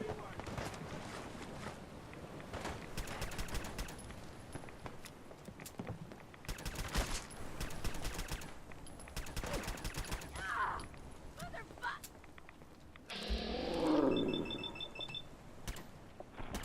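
Bursts of gunfire rattle in the video game Fallout 4, mixed with game sound effects and a short alarm-like beeping tone. A player talks over the action.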